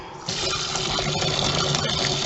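Tap water gushes steadily into a sink while dyed yarn is rinsed, a close, continuous splashing rush that swells slightly after it starts and stays loud throughout.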